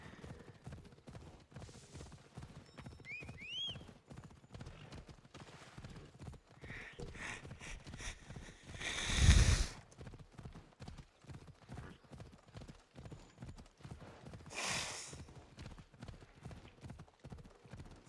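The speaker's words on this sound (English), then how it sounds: "Go over here, you stupid horse." Horse hooves clip-clopping steadily in Assassin's Creed Odyssey, a continuous even rhythm of clear hoofbeats with brief whistle-like calls early on and a loud whoosh midway, no talk.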